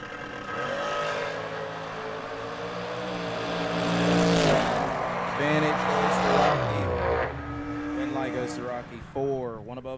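Door car drag racers launching in a heads-up round, loud roaring engines climbing through gears and fading, with an announcer talking over the noise.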